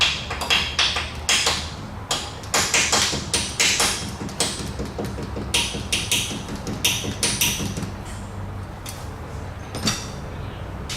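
A Snap-On bolt extractor is tapped into a broken exhaust bolt hole on a 2004 Dodge Ram, with a rapid series of sharp metallic hammer taps coming in irregular bursts, close and fairly loud.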